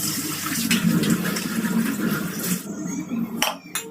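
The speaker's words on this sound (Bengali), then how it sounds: "চালটা ধুয়ে নিই।" Rice being washed in water in a home kitchen: a steady rushing, sloshing wash of water for several seconds, then easing off with a few short splashes and clinks.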